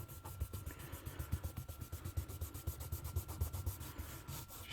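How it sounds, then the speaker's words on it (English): Eraser rubbing out pencil lines on paper while drawing a female face, a quiet, close, rhythmic scrubbing of quick back-and-forth strokes that carries on steadily. "I'm just going to gently just rub out the lines I don't need no more"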